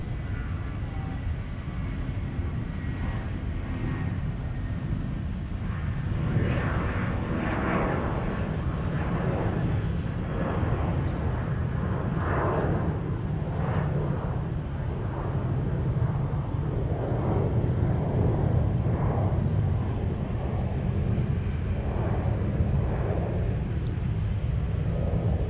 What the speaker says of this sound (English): we got a departure on the north side for United Airlines